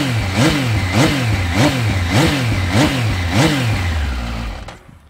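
A 2024 MV Agusta Enduro Veloce, limited LXP Orioli edition, revs loudly up close in six quick rhythmic blips, each rising and falling in pitch, before the engine settles and the sound fades out.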